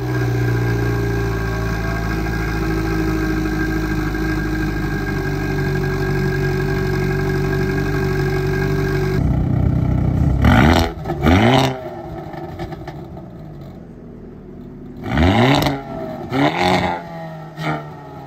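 A Hyundai Kona N fitted with an SXTH Element downpipe idles with a steady, loud rumble, then barks through two sharp revs that climb and fall back, with a few smaller blips between.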